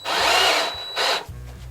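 A power drill unscrews a screw in two loud, close whirring bursts, a long one followed by a shorter one, with low motor rumble between.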